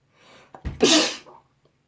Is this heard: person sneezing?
yes